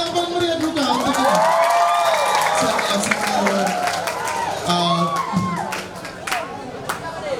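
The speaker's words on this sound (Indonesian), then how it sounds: "Mana tepuk tangan yang paling meriah juga untuk ini?" A school anniversary crowd at SMK Negeri 3 Maumere cheers, shouts and claps for alumni on a simple stage, a lively mass of voices and whoops running throughout with people talking over it.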